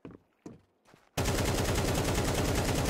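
Sustained automatic gunfire in Counter-Strike 2 erupts abruptly and stays dense and loud for the rest of the stretch, after a few sharp isolated impacts or footsteps at the start.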